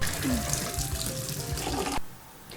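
Water runs steadily into a cooking pot in a rushing stream for about two seconds, then cuts off abruptly, leaving quiet room noise.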